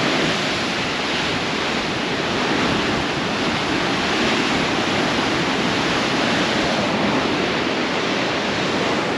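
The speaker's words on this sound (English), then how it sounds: "So we're basically above the ocean." Ocean waves surge and wash steadily against coastal rocks far below a high clifftop lookout, a loud continuous roar of surf with no break and no voices.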